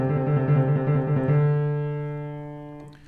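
Left-hand piano trill low on the keyboard, two neighbouring notes alternating quickly for about a second and a half, then a sustained low chord ringing out and slowly decaying, with no talking.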